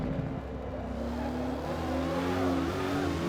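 A Dodge Hellcat's V8 in Forza Motorsport accelerates hard at Watkins Glen, a steady, rising engine drone climbing through the revs without a break over a few seconds.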